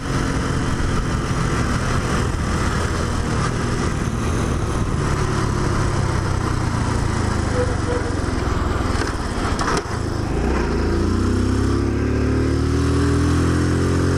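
A Honda C70 motorcycle with an automatic clutch runs continuously and loudly while being ridden, its engine droning steadily before a brief dip as a gear shifts, then climbing again in pitch.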